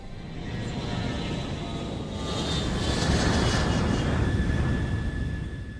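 Steady, loud roar of an airplane engine as a passenger plane runs, broadband rumble swelling slightly in the middle and holding throughout, no voices.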